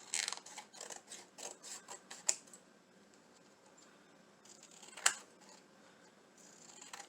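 Scissors snipping Dollar Tree craft material: a quick run of sharp, close snips in a steady rhythm, then a pause with a couple of isolated louder clicks, fairly quiet with no talking.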